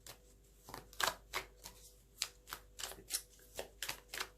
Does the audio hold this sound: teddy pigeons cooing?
no